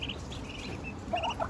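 Ducks call faintly nearby with a few short, high peeping notes scattered over a quiet background, the last cluster a little louder.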